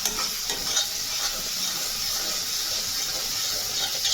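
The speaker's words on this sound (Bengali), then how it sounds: "দিয়ে এটাকে ভালো করে ভাজতে হবে।" Spice paste frying in a pan, for a jackfruit and prawn dish, gives a steady close sizzle with light stirring scrapes running throughout, no voices over it.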